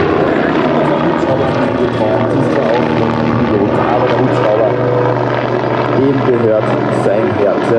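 Steady helicopter rotor and engine drone at the Zeltweg Air Power 2022 airshow, loud and continuous throughout, with people talking over it.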